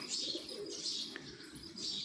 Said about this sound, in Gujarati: પહેલાં થોડાક કબૂતર આવતા પણ હવે બહુ વધી ગયા